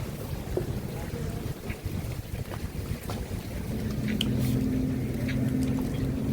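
A motorboat at the Cartagena marina runs with its engine humming under wind buffeting and water noise, the motor rising louder toward the end.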